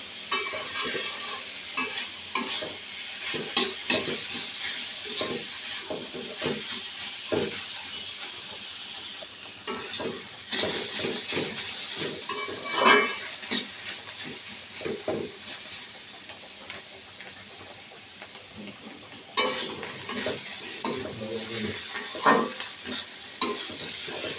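Small shrimp and pre-steamed, drained cabbage fry in a pan with a continuous hissing sizzle, punctuated by repeated scraping and clanking stirs throughout; close, steady, with no voices.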